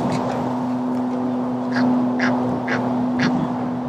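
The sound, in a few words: Egyptian goose calling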